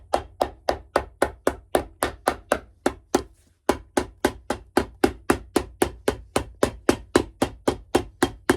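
Steady, rapid hammer blows on a boot midsole, about three per second, each a sharp loud strike, with a brief pause near the middle before the pounding resumes.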